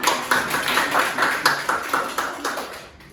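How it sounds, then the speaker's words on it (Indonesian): Classmates in a micro-teaching classroom session clap their hands together, a steady run of sharp, fairly close claps lasting about three seconds before fading out. "Oke, tepuk tangan teman-teman semua."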